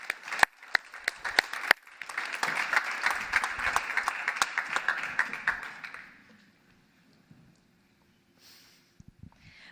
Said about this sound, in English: So, large applause.